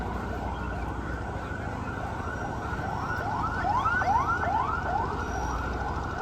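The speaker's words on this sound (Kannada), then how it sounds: "ಆಂಬುಲೆನ್ಸ್ ಎಲ್ಲ ಇದೆ ಹೋಗ್ತಾ ಇದೆ" An ambulance siren wails in repeated rising sweeps, growing louder as it passes, over steady traffic rumble.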